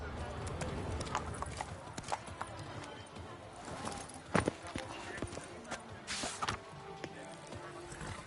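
Roach, a horse in The Witcher video game, trots with clip-clopping hooves on a hard street, its rhythmic footfalls moderately near under game music and a speaking voice, with a sharp thud partway through.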